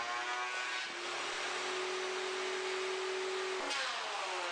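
VEVOR thickness planer taking a heavy 2 mm cut, a loud, steady motor whine with a deeper cutting drone that settles in as the board feeds through, then eases near the end.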